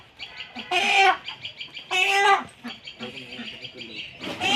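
Two big hens cluck and squawk in loud, harsh bursts while being grabbed and bagged, close by, with quieter clucking between the louder outcries.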